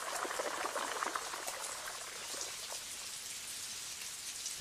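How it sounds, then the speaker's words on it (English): Rain falling on the stone roofs and courtyards of a medieval castle, a fairly faint, steady patter of many drops with no voices. "Spouts on the roofs channel rain into 2 courtyards"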